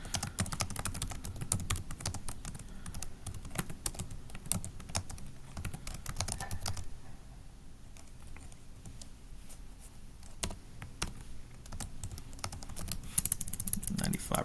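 Fast, close clatter of keystrokes on a computer keyboard as data is entered, in bursts with brief pauses, fairly quiet throughout.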